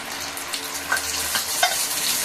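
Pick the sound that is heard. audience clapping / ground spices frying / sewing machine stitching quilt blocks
ground spices frying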